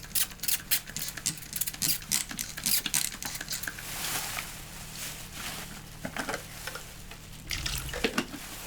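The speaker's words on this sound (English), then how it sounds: "Add in a little water." Tap water runs into corn syrup for homemade fake blood, a close, steady trickle mixed with clinks and clatter from the kitchen.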